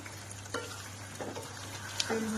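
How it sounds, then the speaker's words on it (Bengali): Chicken with capsicum sautéing in a pan, with a soft steady sizzle and a few scraping stirs of a spoon, close and moderately quiet with no talking. "ভালো করে কষে নিই, আস্তে আস্তে কষা হতে থাকো।"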